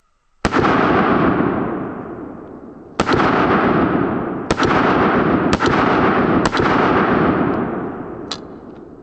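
Several loud pistol gunshots fired during a reliability test, with six sharp cracks spaced unevenly over about eight seconds, each followed by a long booming echo that decays before the next shot.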